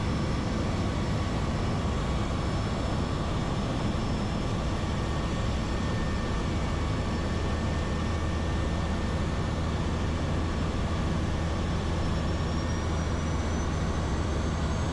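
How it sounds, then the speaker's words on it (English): A Harbour Air seaplane on final approach is heard from inside the cockpit as a loud, constant engine and propeller drone with a steady low hum that fills the whole stretch without a break. No one speaks. "Our airplane is now descending and turning onto the final approach for touchdown in the harbour"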